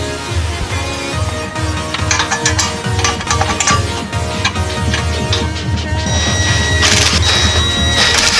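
Bolts on a clutch pressure plate in a 1997 Sonoma are tightened in a crisscross pattern, with repeated close metallic ratcheting clicks and clanks from the wrench in an irregular rhythm.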